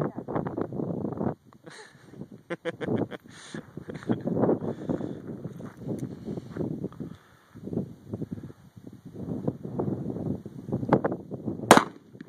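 Shots from a small .32 caliber handgun fired outdoors, a series of sharp cracks spread irregularly across the stretch, with wind buffeting the microphone and people talking between shots.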